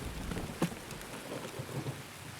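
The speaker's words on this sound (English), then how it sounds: "It's just been raining the last, like, 3 days in this game." Steady hiss of rain falling in a game of Escape from Tarkov, constant and even, with a brief louder thump near the start and a few low rumbles later, no voices.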